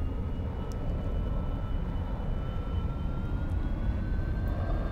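Aircraft engine throttling up in the X-Plane 11 flight simulator game, a steady dense roar with a faint whine slowly rising in pitch across a few seconds.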